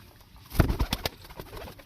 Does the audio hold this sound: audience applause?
no